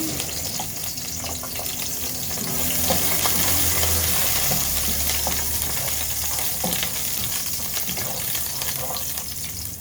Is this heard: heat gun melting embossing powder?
no